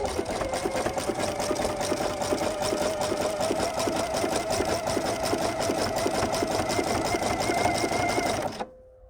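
A sewing machine stitches close to the edge of fabric joined to elastic, a loud, fast, steady mechanical chatter running for about eight seconds before stopping abruptly.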